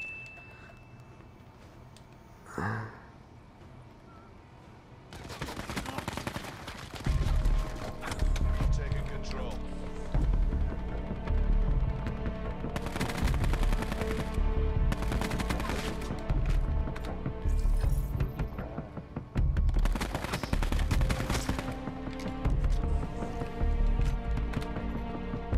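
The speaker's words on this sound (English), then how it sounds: "This assault rifle is a beamer" SWAT RFT assault rifle gunfire in a first-person shooter video game, sustained automatic bursts broken by short pauses, loud and close, with game sound effects running underneath.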